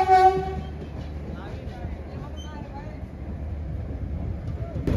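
The Visakhapatnam–Kirandul Express pulls away with a short horn blast, then rolling wheels and carriage rumble build steadily under nearby chatter.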